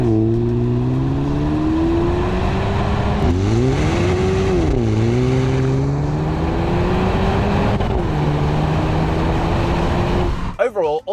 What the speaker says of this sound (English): you deserve to hear how the exhaust sounds